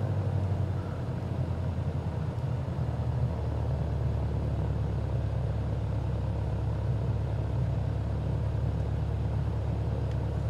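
Light aircraft engine on landing approach with the throttle pulled well back, a steady low droning rumble heard from inside the cabin, loud and continuous with no speech.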